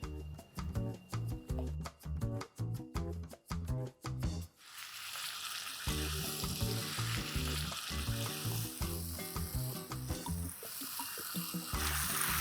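All-purpose curry base gravy poured into hot oil spiced with red chili powder and turmeric, first a rhythmic series of sharp stirring knocks, then a loud burst into a steady, bright sizzle that continues close and unbroken.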